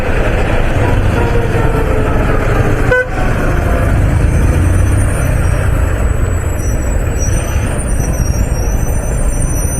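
A tractor engine runs close by in a loud, steady diesel rumble that fills the whole stretch, with no talking heard.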